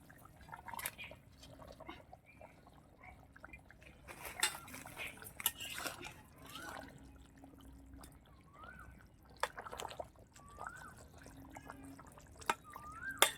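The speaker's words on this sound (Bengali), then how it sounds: "আলু সেদ্ধ হয়ে গেছে, এবার আমি মাছগুলো দিয়ে দিচ্ছি।" Fish pieces going into a pot of curry with boiled potatoes, quiet clinks of a utensil against the pot and soft liquid drips and splashes, sparse and faint.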